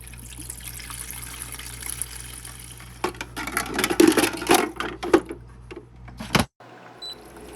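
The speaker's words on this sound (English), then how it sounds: "We're going to put some water in there." Water pours and splashes into an ice maker nearby for a few seconds over a steady machine hum, ending abruptly.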